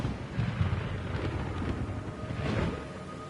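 A low, rumbling roar of thunder rolls over a steady hiss of rain in the video game Metal Gear Solid 3: Snake Eater, swelling and fading without any voices.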